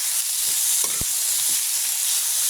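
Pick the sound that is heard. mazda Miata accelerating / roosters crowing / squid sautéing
squid sautéing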